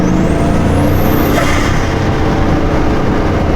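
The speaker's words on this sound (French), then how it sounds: "Il y a le moteur qui fait penser pour moi à un moteur d'avion de chasse." A Bugatti Chiron Super Sport's 1600 hp engine accelerating hard in third gear, a loud, continuous roar with a rising whine that climbs then drops off, heard up close and without talk.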